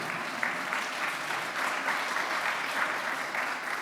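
Audience applause at a healthcare personalization forum, a steady wash of many hands clapping that holds at an even level throughout, with no voices over it.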